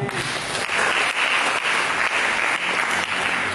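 A church congregation breaks into applause during a sermon, a sustained, dense wash of clapping from many hands, fairly loud and steady, with a faint voice beneath.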